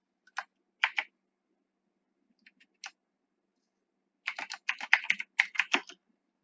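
Keystrokes on a computer keyboard: a few isolated clicks spaced apart, then a rapid burst of typing, close and fairly quiet, with no talking.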